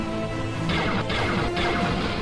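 Heavy, booming Star Wars mod laser weapon blasts fire in quick succession in a video game, crunchy and loud over a dense rumbling background.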